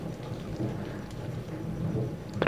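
Steady rain patters across the whole stretch with low rumbling thunder rolling beneath it, swelling slightly near the end alongside a brief sharper crackle.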